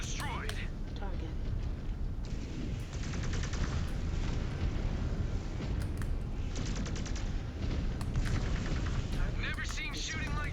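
Mech weapons fire in a MechWarrior 5 Clans Ghost Bear battle: dense, continuous barrages of heavy gunfire and blasts, loud and sustained for the whole stretch, with occasional brighter cracking bursts layered over a rumbling low end.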